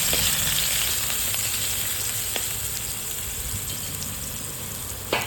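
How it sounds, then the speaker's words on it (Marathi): Green chili and garlic paste fries in a pan with a loud, continuous close sizzle and hiss, with a few faint clicks of stirring. "मस्त 2 मिनटं त्याला आपण फ्राय करून घेऊया"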